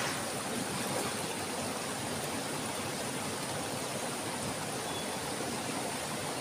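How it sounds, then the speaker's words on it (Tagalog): A strong river current rushes in a dense, unbroken roar that stays loud and even throughout, with no voices over it. "Lakas pa ng agos."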